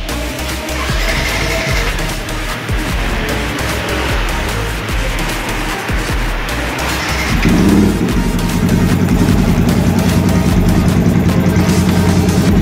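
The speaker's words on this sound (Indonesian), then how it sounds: "Kemudian nyalakan mesin." Motorcycle engine being started during an injector infusion cleaning service, first a rough mechanical rumble, then catching around the midpoint into a steady, loud idle hum that continues without any talking.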